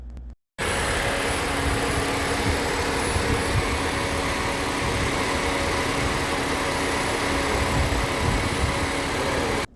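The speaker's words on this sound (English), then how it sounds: "This is what the engine sounds like when it's on and just idling." A 2021 Nissan Kicks e-Power engine idling under the open hood, a steady, loud, continuous low hum and whir that starts abruptly after a brief silence and holds even to the end.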